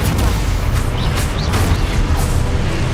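A Confringo fire-blast spell from the Hogwarts Legacy video game, heard as loud, dense booming and crackling combat effects that run continuously, with several sharper bursts layered over a heavy rumbling low end.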